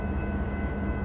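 Canadian Pacific freight train passing at Rouses Point, a steady low rumble with a continuous drone and faint high whine, no distinct horn or clanks.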